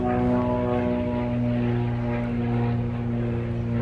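A propeller airplane drones loudly and steadily, a continuous low engine hum with a buzzing harmonic tone that holds throughout without voices.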